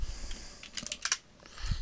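Quiet, quick keystrokes on a computer keyboard as the ipconfig command is typed at the Windows command line, a light irregular patter of clicks with a brief pause near the end.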